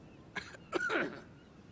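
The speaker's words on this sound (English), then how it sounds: "Why is he coughing?" Two quick coughs from a character in the video game The Council, the second longer and rougher, close and clear against near silence.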